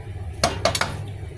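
Tomatoes stirred in a pan for a warm eggplant salad, with a few sharp metallic utensil clinks against the pan in quick succession over quiet background.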